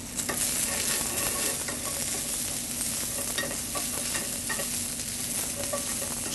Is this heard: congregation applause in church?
no